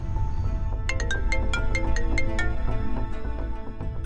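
A phone ringtone plays a bright repeating electronic melody of quick chiming notes, close and clear over a low background hum.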